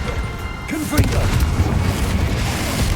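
A Confringo fire spell explodes in the video game Hogwarts Legacy: a loud booming burst that rolls on into a sustained rumble for a couple of seconds.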